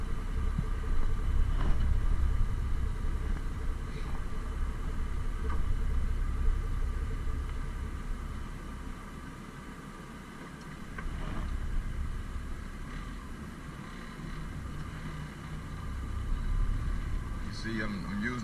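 Semi truck pulling off from a stop with the clutch and working up through the gears, a deep engine rumble rising and falling steadily, heard from inside the cab.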